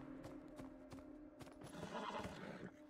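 Horse hooves clip-clop in the video game Beyond Two Souls, a steady run of close, sharp hoof strikes over a continuous tonal game background, with no talk over it.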